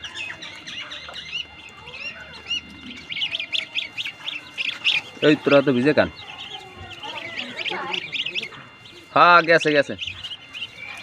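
Native chickens and ducks calling around a home yard, with chirps and squawky quacks and a couple of loud harsh bursts near the middle and end, mixed with a person talking nearby.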